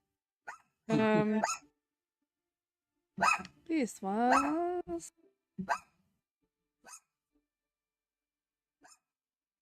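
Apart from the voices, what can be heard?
dog barking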